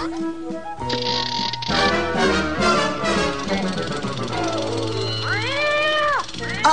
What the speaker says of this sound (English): Now we use the mechanical cat to capture her.